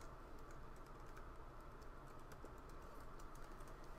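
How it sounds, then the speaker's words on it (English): Typing on a computer keyboard at a desk, with steady soft key clicks running through the whole stretch at low volume over a constant faint background hiss. "I tried to type something in"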